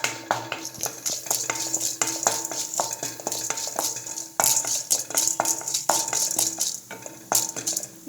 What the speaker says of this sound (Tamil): ஆயில் காஞ்சதுக்கு பிறகு கடலைப்பருப்பு, உளுத்தம்பருப்பு,